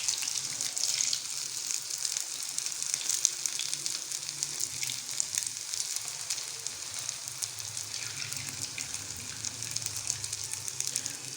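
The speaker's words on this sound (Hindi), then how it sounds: "मीडियम आंच पे हम इनको फ्राई करेंगे" Bread cutlets made from bread and plain water fry in oil over medium heat, giving a steady, close, even sizzle that carries on without pause and with no talking.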